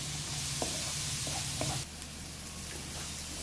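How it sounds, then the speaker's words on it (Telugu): Drumstick leaves stir fry with turmeric sizzling steadily in a pan while a spoon stirs through it, a continuous close frying hiss with a few light scraping taps, no voices. "వేసి మళ్ళీ ఒకసారి కలుపుదాము. బాగా మిక్స్ చేయండి."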